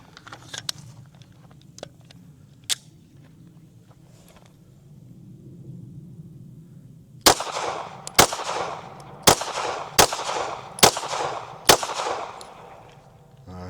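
Shots from a Ruger RXM 4.5 full-size pistol firing Blazer brass ammunition at a range, about six sharp, loud reports spaced roughly a second apart after a quieter stretch of faint clicks and handling.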